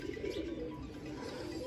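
A pigeon on a neighbouring rooftop cooing in a low, steady, soft murmur that carries through the short stretch, with faint background hiss and no talking.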